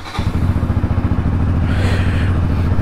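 A motorcycle cold-starts with a short crank, then its engine settles into a loud, close, rhythmic thumping idle that runs steadily, with no voices over it.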